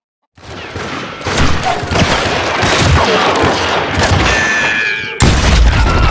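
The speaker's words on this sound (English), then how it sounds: "That scatter gun was like a double-barreled howitzer. It could blow a man clear off his feet." A double-barreled scatter gun fires in the Wild West shooter game Call of Juarez Gunslinger. Loud, dense bursts of booming shots and blasts follow one another almost without pause, ending in a sharp heavy blast.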